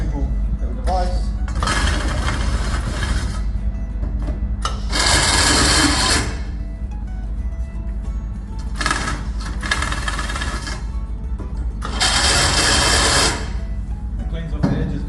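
A small workshop device for cleaning the edges of cut tube runs in several loud bursts of grinding, whirring noise separated by quieter gaps, with a person talking throughout.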